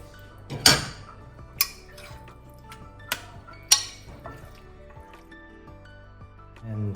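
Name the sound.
kingfish wings added to tomato sauce in pan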